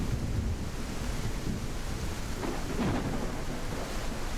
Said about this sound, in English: away from all the lightning and thunder